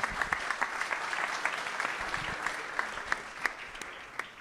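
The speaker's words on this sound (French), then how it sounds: "Applaudissements, mesdames, messieurs." An audience at an entrepreneurs' event in Paris breaks into warm, sustained applause, many hands clapping in a continuous patter with a few sharper claps standing out.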